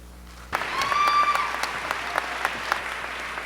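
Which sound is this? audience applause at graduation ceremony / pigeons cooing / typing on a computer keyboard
audience applause at graduation ceremony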